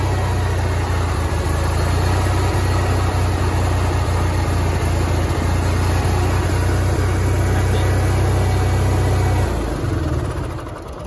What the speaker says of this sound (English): if you're plugged in at a campsite, you won't need to use the generator.